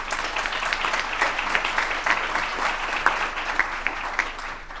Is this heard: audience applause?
yes